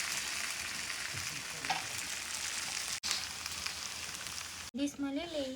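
Jowar flour dhokla tempered in hot oil with mustard seeds and cumin, a dense steady sizzle that briefly cuts out twice, with a short voice near the end.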